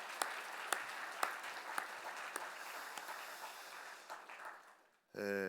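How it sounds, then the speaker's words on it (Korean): A church congregation applauds at an early-morning New Year prayer service, a sustained spread of clapping with a few sharp claps standing out, fading near the end before a voice begins. "우리 특별히 주차 안내하신 우리 분들을 위해서 우리 격려의 박수 한번 보내시겠습니다."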